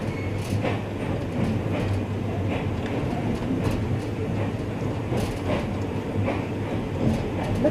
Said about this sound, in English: I like this old train having the old steam engines